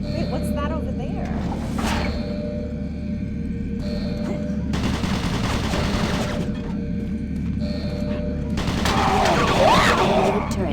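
Automated turret guns in a video game fire in rapid bursts, loud and close, several separate volleys over a steady mechanical hum and ambient game noise, with no voices.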